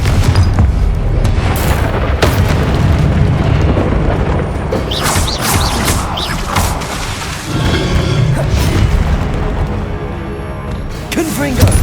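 Repeated Confringo fire-spell blasts from the Hogwarts Legacy video game burst through a loud, dense boss-battle mix of booms, crashes and clattering effects. The blasts come in waves across the whole stretch, and a voice can be heard over them.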